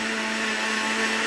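Steady whirring roar of a food processor chopping fresh parsley, a continuous loud motor drone with a fixed hum running throughout, with no pauses or voices.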